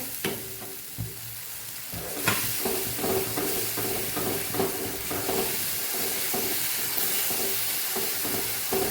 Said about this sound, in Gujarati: ટમેટાનું પાણી બળે ત્યાં સુધી આપણાને સાતળવાનું છે